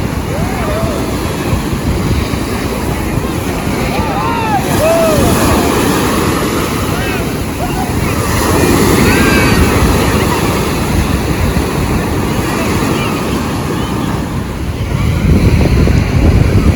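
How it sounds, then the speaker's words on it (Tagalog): Big ocean waves roar and wash continuously on a beach at Patar, Bolinao, with wind buffeting the microphone throughout. "Grabe, napakalaki ng mga alon dito"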